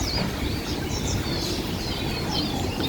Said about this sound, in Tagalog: Napakaraming mga kalapati dito guys.